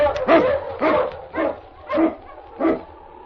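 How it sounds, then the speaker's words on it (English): An Eskimo lead dog barks five times in a loud, close, evenly spaced series, each bark short and rough, with no voices over it. "The Wonder Dog King, swiftest and strongest of Eskimo lead dogs, blazes the trail through storm and snow for Sergeant Preston"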